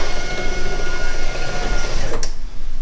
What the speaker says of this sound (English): We've got power windows again.